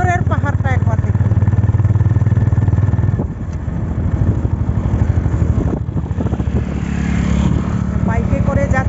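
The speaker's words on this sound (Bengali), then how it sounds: "বাইকে করে যাচ্ছি।" A motorbike rides along a newly paved, winding mountain road near the Bagrakote loop bridge outside Siliguri. The engine drone and road noise stay loud and continuous, with a voice talking over it at the start and end.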